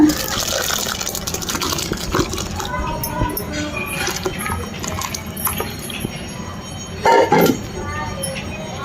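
Hot curdled milk from milk powder is poured through a white cloth for homemade paneer, giving splashy liquid gushes and a brief clink while someone talks over much of it.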